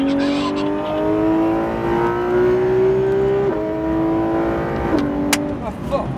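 A race car accelerates hard on a track, its engine note climbing in steady rising harmonics for about five seconds before a brief gear change, loud and close from inside the car, with faint talk beneath.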